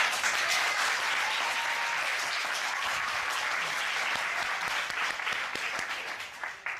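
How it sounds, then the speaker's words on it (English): Steady audience clapping at a talk-show taping, dense and continuous throughout, with faint voices in the background. "Why are you clapping?"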